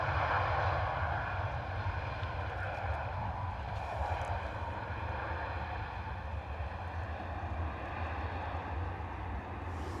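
A Ryanair jet that has just landed at London Stansted, with little reverse thrust, gives a steady, moderate engine drone that fades slowly over ten seconds.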